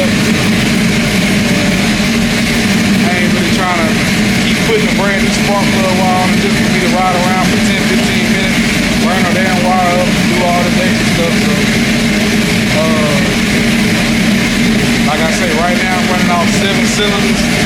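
An LS V8 with a damaged spark plug wire idles roughly on misfiring cylinders, a loud, continuous low engine drone close by while someone talks over it.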